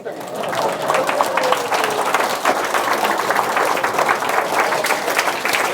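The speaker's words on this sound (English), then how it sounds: "Applaud." A lecture audience on gravity, health and aging breaks into applause, a full, continuous round of clapping from many people at close range, with some voices mixed in.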